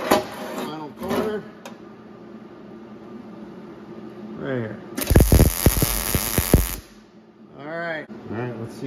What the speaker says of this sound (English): holding down on it like this as I'm tacking.